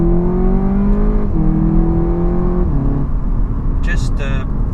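A 2015 Seat Leon Cupra 280 ST, front-wheel drive, accelerating hard from a launch, its engine note climbing steadily through two gear changes before easing off, with a voice briefly heard near the end.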